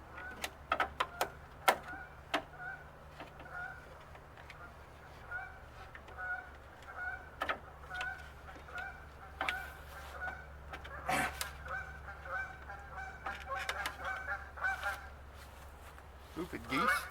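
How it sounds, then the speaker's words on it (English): Geese honk repeatedly outdoors near someone working on the front grill of a 1990 Ford Bronco II, irregular nasal calls scattered over a low steady hum, with occasional clicks and light handling noise. "Stupid geese."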